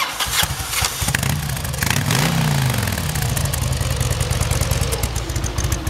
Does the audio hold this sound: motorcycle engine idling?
yes